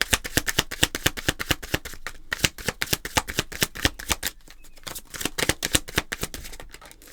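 Oracle cards shuffled by hand for a reading: rapid, rhythmic riffling flicks close up in two bursts separated by a brief pause, no voices.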